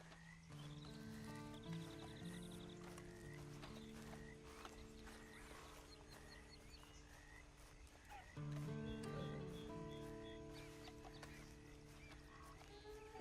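Game horse in Red Dead Online, with a whinny and hoof sounds mixed into a dense bed of orchestral music and ambient tones, with no voices present.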